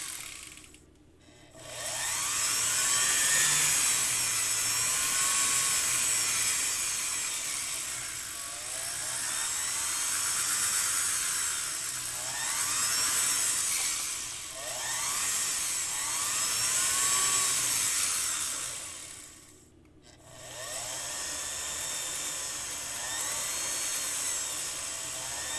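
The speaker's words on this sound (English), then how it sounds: "I love this silicone wheel. It's really making nice work with this." A rotary tool spinning a silicone polishing wheel against metal, a high continuous whine that rises and falls in pitch as pressure changes, close and steady with two brief pauses.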